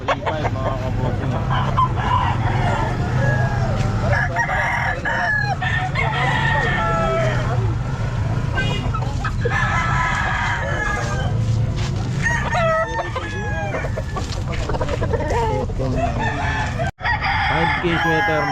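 Sweater gamefowl roosters crow repeatedly at a busy pet market in Calumpit, several birds overlapping near and far amid clucking, crowd chatter and a vendor's voice.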